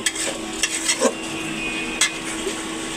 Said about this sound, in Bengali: তরকারি হচ্ছে এইভাবে অনবর নাড়তে হবে।